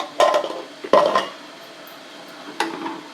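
A utensil scrapes and clinks against a pot of chana dal rice payasam in three separate bursts, with quiet pauses in between.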